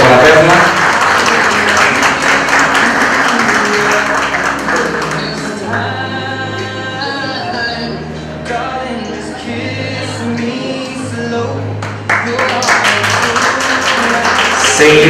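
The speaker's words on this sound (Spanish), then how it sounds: "Un aplauso para Perla." Guests at a quinceañera celebration clap as a damita of the court makes her entrance, with crowd applause sounding under and between a host's talk and background music with a steady bass line.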